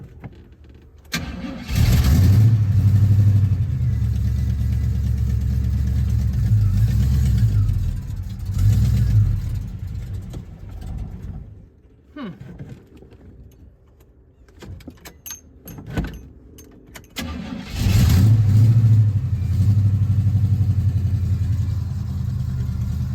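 A 1972 Oldsmobile Cutlass engine cranks and catches, then runs loud and close with a deep rumble and revs, briefly dies away to clicks and rattles, and roars back to life.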